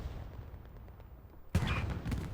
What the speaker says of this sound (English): Lots of explosions here.